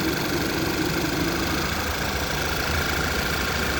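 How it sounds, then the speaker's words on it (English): A 2012 Volkswagen Beetle with the 2.0T TSI engine idles with the air conditioning on full. A steady, even engine hum and faint mechanical whir carry on without change, close and moderately loud, with no talking. "I'm gonna go ahead and turn the car on with the AC on full blast."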